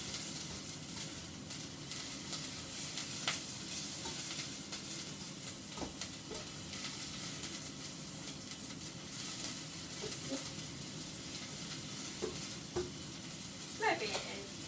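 Vegetables for parsnip soup sizzle softly in a pan with a steady, quiet frying hiss and occasional faint clicks of stirring throughout.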